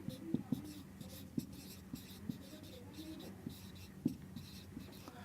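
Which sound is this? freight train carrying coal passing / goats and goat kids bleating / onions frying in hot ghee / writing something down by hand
writing something down by hand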